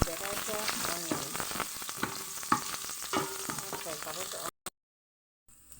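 Red onions and garlic frying in oil for chicken pilau, a close, steady sizzle with occasional stirring scrapes, a voice speaking over it, then a brief cut to near silence near the end.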